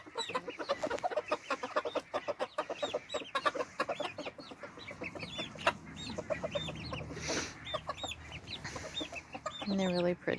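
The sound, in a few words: chickens and roosters clucking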